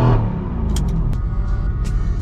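A 700hp widebody AMG GTS engine revs loudly and close, with a strong opening blip that settles into a sustained deep rumble and a few sharp crackles over it.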